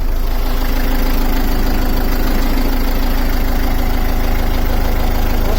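A Beta 38 marine diesel engine idling after a cold start, a loud, steady, close-up knocking drone with an even pulse that runs unbroken throughout.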